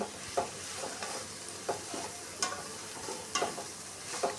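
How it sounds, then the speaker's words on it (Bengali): Vegetables stirred and fried in a pan with salt and turmeric, with faint sizzling and a series of sharp spatula scrapes and clinks at irregular intervals, moderately close. "লবণ হলুদ দেওয়ার পর আর একটু নাড়াচাড়া করে ভেজে নিতে হবে"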